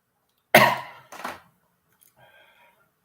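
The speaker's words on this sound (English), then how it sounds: "I'm still coughing a bit." A man coughs nearby: one hard, loud cough followed by a shorter second cough, then a faint throaty sound trailing off into near silence.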